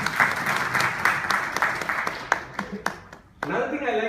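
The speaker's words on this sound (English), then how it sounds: "stand up and you can take a round of applause for this" Audience applause at a networking event, a round of clapping that fades after about two seconds into a few scattered claps, then a voice begins speaking at the end.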